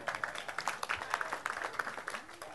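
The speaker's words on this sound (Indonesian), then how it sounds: "Tepuk tangan untuk Sabrang ya." A short burst of audience applause at an Indonesian talk gathering, made of scattered, fairly faint claps that carry on evenly without a voice over them.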